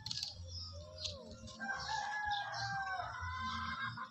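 Chickens cluck and murmur nearby while a rooster crows, with busy overlapping calls from the flock throughout.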